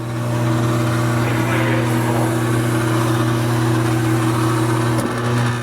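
An electric motor on one-touch electric attic stairs in a garage drones steadily as it lowers the unit, a loud, even hum with strong tonal whine that runs unbroken, with one small knock near the end.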